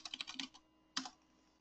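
Quick keystrokes on a computer keyboard, a short burst of about half a second, then a pause and one final key press, faint and close in a quiet room.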